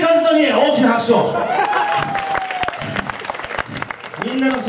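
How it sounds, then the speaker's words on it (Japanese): Applause and cheering from a crowd at a university student pro-wrestling show, loud and continuous and mixed with crowd noise, while an announcer's voice talks over the top for the first part. "負けたけどかっこいいカズトに大きな拍手"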